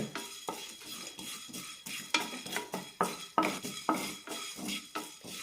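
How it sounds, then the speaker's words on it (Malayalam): Fenugreek seeds and black peppercorns dry-roast in a pan over a low flame, with a spoon stirring and scraping in a steady, rhythmic pattern of soft clinks and rattles and a faint sizzle. Nobody talks. "ലോ ഫ്ലെയിമിലിട്ട് വറുത്തെടുത്താൽ മതി"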